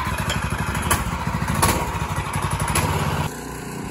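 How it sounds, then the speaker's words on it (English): A small 212 Hemi go-kart engine runs steadily and fairly close, a buzzy rhythmic putter with a few knocks, dropping to a softer idle near the end. "For the first time in many months, working engine on the car."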